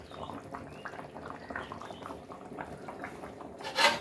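Beef and breadfruit curry with a roasted ground coconut masala bubbles steadily in a pot, a continuous close bubbling and simmering with a brief louder clatter, likely a lid, near the end.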